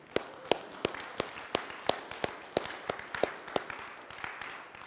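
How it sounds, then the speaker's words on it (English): Sharp, evenly spaced hand claps ring out with a steady beat, about three per second, a church congregation clapping in rhythm in a reverberant room. "Give the Lord a clap offering."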